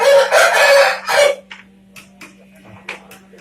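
A rooster crows loudly and close at a poultry market, two long strained calls, followed by scattered clucks and chicken noises with a steady low hum underneath.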